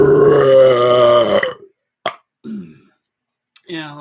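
Deep, drawn-out voiced burps from a person shaping the sound with the mouth: one long resonant belch followed by a few shorter gulps and a final brief burp, loud and close.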